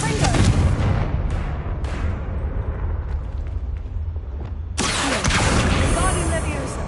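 A Confringo fire blast spell goes off in the Hogwarts Legacy video game, a loud, booming burst with crackling explosive debris, followed by a second heavy blast near the end.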